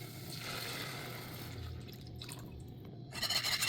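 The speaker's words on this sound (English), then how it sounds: "Add 1 cup of milk." Milk pours into a flour roux for nacho cheese sauce, a soft steady liquid trickle and drip close by that swells louder near the end.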